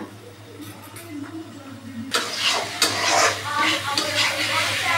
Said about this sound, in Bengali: আমি এবার দেখো কষাচ্ছিলাম মশলাটা দিয়ে।